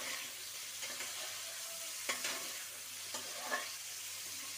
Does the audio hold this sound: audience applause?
no